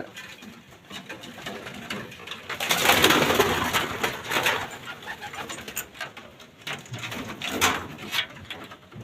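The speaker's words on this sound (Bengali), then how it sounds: "এই কবুতরটা কিন্তু আসলে একটি মাক্সি কবুতর" Racing pigeons coo softly in low, rolling bursts nearby, with a faint rustle and patter in the background.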